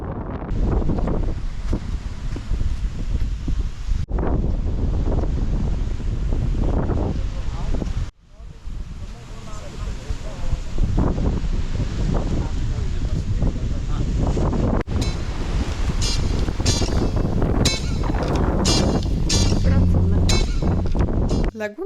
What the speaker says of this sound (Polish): Dość mocno wieje.